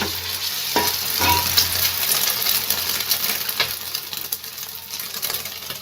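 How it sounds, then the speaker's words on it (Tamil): Egg-dipped maida and potato dough sizzles loudly in oil on a dosa pan, a close, steady crackling hiss broken by a few soft clinks and stirring sounds, with no talking. "இதை முட்டையில் இப்படி டிப் பண்ணிவிட்டு எண்ணெயில் வச்சுக்கலாம்"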